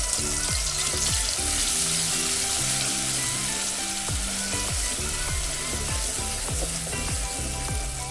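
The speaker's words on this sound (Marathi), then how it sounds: "ते वाटण छान परतून घेऊया" Ground coconut and onion paste sautéing in a pan with cumin sizzles loudly and steadily throughout, with faint stirring and occasional soft knocks underneath.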